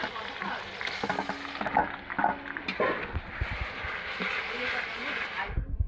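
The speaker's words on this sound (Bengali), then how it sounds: "ভালো করে একটু ভেজে নিচ্ছি" Onion, garlic and ginger paste sizzling steadily in oil in a pan as it fries, with stirring and scraping sounds throughout, close and fairly loud.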